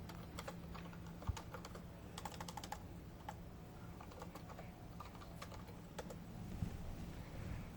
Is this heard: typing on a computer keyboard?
yes